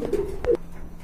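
A racer pigeon gives a couple of soft, low coos close by, short throaty phrases with a brief pause between them, quiet and alone.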